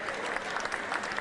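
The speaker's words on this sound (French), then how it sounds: "je vais vous demander tous des applaudissements pour notre ami Jean-François Gobertier" Spectators applauding for a sports patron, a brief wash of continuous clapping at moderate distance.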